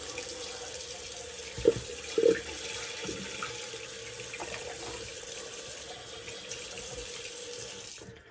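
A tap runs steadily into a sink while someone rinses off after a shave, with a couple of brief splashes early on and the flow continuing until it stops at the end.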